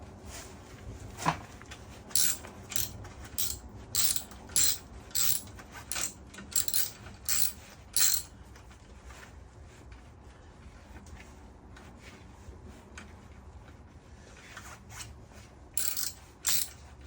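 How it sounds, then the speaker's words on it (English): Ratchet tightening a 10mm socket on a radiator bolt of a Yamaha FZ6R motorcycle, heard as short bursts of clicking, several quick pulls in a row, then a pause and a few more near the end, close and fairly quiet. "Let's put that 10mm socket back on there. Try to tighten it up."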